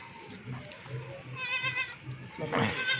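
Goats offered for sale at a farm bleat several times, loud and close, over someone talking and faint background chatter.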